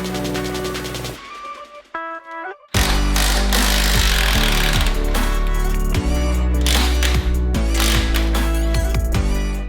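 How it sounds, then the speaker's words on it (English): An impact wrench hammers loose a rusty tie rod nut on a Subaru STI, a loud, continuous rattling burst that breaks in suddenly after a quieter mechanical lead-in and runs steadily close to the mic. "some PB Blaster and an impact will work just fine"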